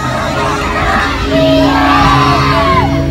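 A crowd at a Maa Bhagwati jagran in a village near Jalandhar answers with a loud, drawn-out shouted jaikara chant that swells midway, with whoops and yells over the music.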